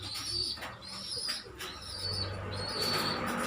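Pigeons coo in low, soft, repeated calls, broken by a few brisk bursts of wing flapping, with steady outdoor background noise.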